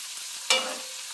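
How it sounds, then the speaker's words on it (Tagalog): Sauce hits a hot pan of pan-fried kingfish with a sudden loud hiss, then settles into a steady, close sizzle. "Then, ilagay natin dyan ang sauce"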